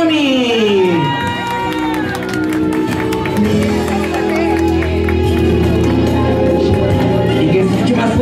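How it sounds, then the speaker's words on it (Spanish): Party guests at a child's third birthday celebration cheer and applaud loudly, a dense crowd roar with shouting children and steady clapping filling the whole stretch, mixed with music. "Vamos a darle un fuerte aplauso a su mami."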